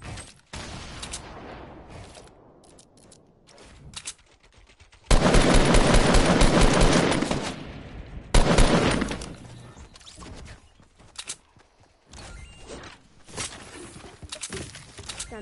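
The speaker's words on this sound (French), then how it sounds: "Mec, j'ai entendu la balle de snipe" Fortnite gunfire rattles in bursts of rapid automatic shots, with a loud sustained volley in the middle and scattered sharper cracks and impacts before and after.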